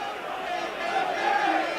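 A rugby league crowd roars and chants in steady support for Workington Town during a match against Wigan, a sustained distant swell of many voices with no clear single speaker.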